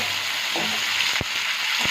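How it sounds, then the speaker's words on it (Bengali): Potatoes frying together with onions in a pan: a steady, close, broadband sizzle runs throughout, broken by two brief low thumps of stirring, with no talk over it. "আলুটা আমি এর সঙ্গে নিয়ে ভালো করে ভেজে দিই।"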